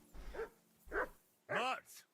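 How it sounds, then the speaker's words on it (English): Dog barking in a medieval quest video game: three separate bark bursts spaced roughly half a second apart, moderately loud and close, with a fainter trailing yelp at the end. "That barking was a pain in the ass."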